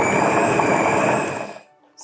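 Pastry dough with egg yolk churns in an electric mixer, a steady whirring motor drone that runs on and then winds down to a stop.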